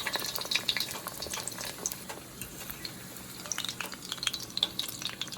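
Chebureki-style crispy chicken tacos frying in hot oil, a quiet, crackling sizzle with dense little pops and spits, steady and close but soft, no voices.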